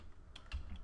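A short burst of typing on a computer keyboard, with three or four quick, close key clicks in under a second, fairly quiet and with no voices.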